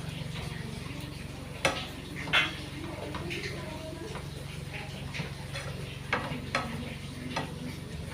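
A spoon scrapes and taps through fried prawns being stirred into a vegetable thoran in a pan, giving sharp intermittent clicks over a soft, steady sizzle.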